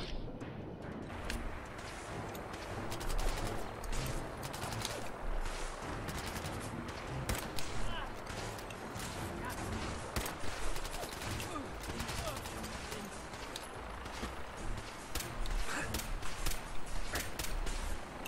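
Steady gunfire rattles throughout a Fallout 4 firefight, repeated shots and bursts at moderate loudness with game ambience beneath and occasional talk over it.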